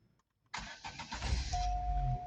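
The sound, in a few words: Opel car engine starting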